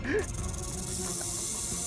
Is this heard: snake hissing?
yes